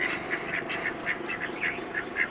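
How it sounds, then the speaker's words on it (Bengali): Ducks quack repeatedly in short nasal bursts, a steady run of calls close by with no talking. "এখানে দুটো হাঁস রাখা আছে"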